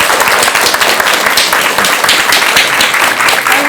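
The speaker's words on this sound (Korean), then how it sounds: "큰 박수 한번 부탁드릴게요" Audience applauding after a lecture by a Buddhist monk on education, dense steady clapping from a hall full of people, loud and close, with no break.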